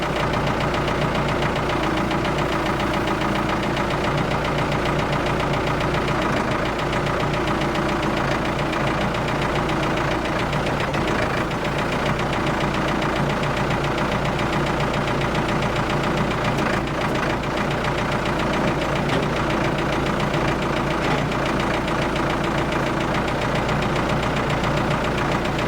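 A Ford 655A backhoe engine, left for scrap, runs steadily at idle with a continuous rough, knocking rumble that stays loud and unchanging throughout.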